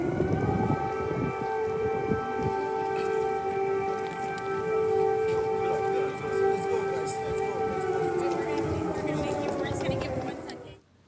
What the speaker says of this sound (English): Air sirens were sounded at that moment.